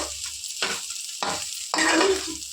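Paneer fried rice with vegetables frying and being stirred in a pan, steady sizzling broken by three or four scraping stir strokes that flare up the hiss.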